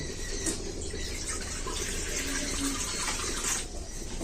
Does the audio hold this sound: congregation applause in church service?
no